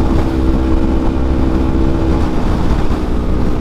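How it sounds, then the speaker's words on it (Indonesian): Steady, loud rush of wind buffeting the microphone while riding a motorcycle, with a low engine drone underneath, constant and close throughout with no talking. "Tuh, anginnya kenceng nih."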